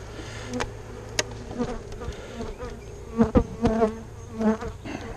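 Honey bees buzz around an open hive during an inspection while a split is being made, a close, lively drone with individual bees swelling louder as they pass near, over a constant hum, and no speech.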